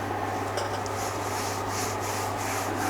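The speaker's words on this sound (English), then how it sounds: "Anywhere it seems to have soaked in a bit more than others, just give it another rub." A cloth rubs finish coat onto a leather travel journal, a soft continuous close rubbing swish over a low steady hum, with no talk.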